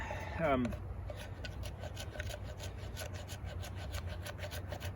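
Knife scraping shavings from a Douglas fir 2x4 outdoors, a series of short rasping strokes in an even rhythm, close and faint over low background noise.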